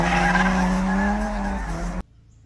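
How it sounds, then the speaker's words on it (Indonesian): A toy race car sound effect plays a loud, close skid and tire squeal with a revving engine tone for about two seconds, then cuts off abruptly to near silence. "Ini adalah mobil balap."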